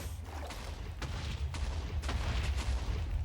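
Blocks explode one after another in a block-building video game, where every block stepped on blows up, producing a run of muffled booms at roughly one-second intervals over a constant rumbling background.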